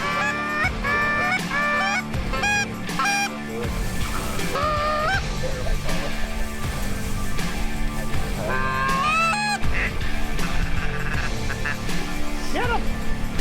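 Canada geese honk repeatedly during a goose hunt, overlapping calls and honks from several birds in rapid bursts, some near and loud, over a constant outdoor background.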